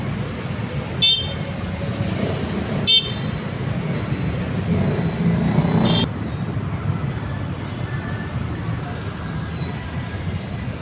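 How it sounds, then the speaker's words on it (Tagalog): Busy city street traffic on West Avenue, Quezon City, with many motorcycles and cars passing steadily, a couple of short horn toots, and the broad roar continuing throughout at close range. "Daming motor, daming sasakyan sa likod ko."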